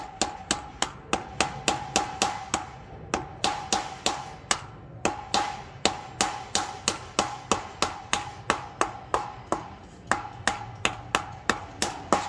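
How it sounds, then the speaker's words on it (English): Steady series of light, sharp hammer taps seating a rubber plug grommet cover over a bearing dust cap on a small utility trailer hub, evenly spaced and close, with no talking. "Just keep going gently, and you'll hear it when it's solid."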